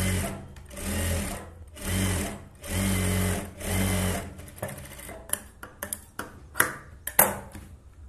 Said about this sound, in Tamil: ஸ்ட்ரைட்டாக வச்சு தைக்க பண்ணுங்க